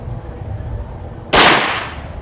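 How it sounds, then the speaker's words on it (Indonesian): A single sharp, loud crack from a high-powered air rifle shot cuts through low background rumble, then decays over about a second. "kita mulai tembakan pertama untuk SJ18"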